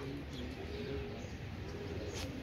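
Pigeons in a morning racing competition in Karachi coo softly and continuously in low, rolling tones, with faint breezy outdoor background and no talking.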